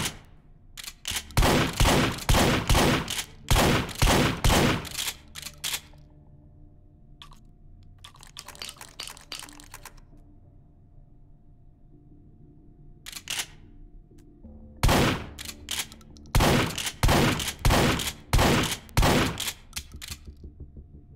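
Shotgun fire in the VR shooter Hot Dogs, Horseshoes & Hand Grenades, loud sharp blasts in quick clusters with reload clicks and handling noises in the quiet gaps between volleys.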